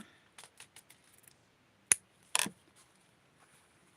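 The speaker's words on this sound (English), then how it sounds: "I'm going to cut this now." Scissors snip fabric for doll clothes at a sewing table, a few faint light clicks followed by two sharper, louder cuts close by in a quiet room.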